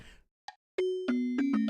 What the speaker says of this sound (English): almost like bell chime thing.